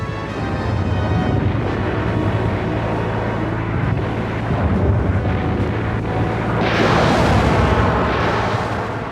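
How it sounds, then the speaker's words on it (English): Rocket fire and German coastal artillery batteries fire during a WWII amphibious landing at Walcheren, producing a continuous loud rumbling roar of blasts that swells with a harsher surge near the end. "Rocket fire pounded the defenses. The German coastal batteries, which had suffered little damage from the bombing, opened fire."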